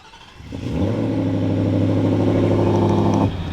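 A 2024 Ford F-150 Raptor R pickup engine starts by remote and settles into a steady, rumbling idle with a deep, even drone, close by and alone.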